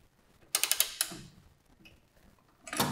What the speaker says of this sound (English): go ahead and get the ratchet and just get it started